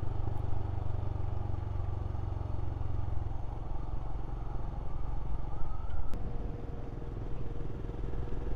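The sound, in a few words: Royal Enfield Scram motorcycle riding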